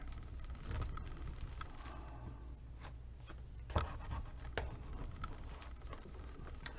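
Rubbing strokes of a burnishing tool across a paper album page, soft and close, with scattered scratchy passes and one firmer tap near the middle, no talk.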